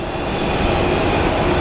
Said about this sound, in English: what you are hearing is an Airbus A321 powering up right now